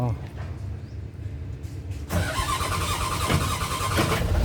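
A Komatsu PC200 excavator that has sat unused for a long time cranks and catches after about two seconds, its engine running on in a loud, rough idle, with people talking nearby.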